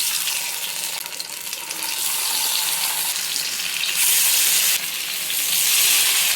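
Jilebi (tilapia) fish pieces fry in hot oil in a pan with coriander and curry leaves, giving a loud, continuous close-up sizzle that swells in brief bursts.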